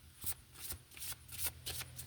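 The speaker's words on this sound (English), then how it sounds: "let's shuffle" A deck of tarot cards being shuffled by hand, a quick series of crisp riffling bursts in an even rhythm, close and fairly quiet with no talking.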